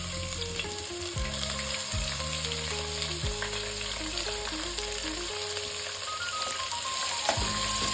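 Finely chopped onions and curry leaves fry in oil with a steady, hissing sizzle and light stirring, heard close beneath an ongoing musical backing.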